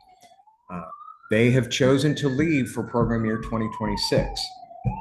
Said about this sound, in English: Sorry for the siren back there.